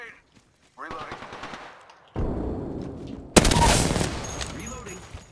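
Gunfire in an Apex Legends firefight, with rapid automatic bursts and heavy shots stacking into dense, loud fire in the second half, and a voice briefly talking under the action.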